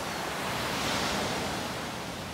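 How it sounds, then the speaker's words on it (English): Sea waves surging onto a village beach as a steady, broad wash of surf roar, continuous and moderately loud, with breezy wind noise mixed in and no voices. "High gushing waves"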